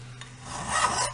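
A metal file rasps across a drilled burr in a short stroke, starting soft and swelling to a gritty scrape before stopping.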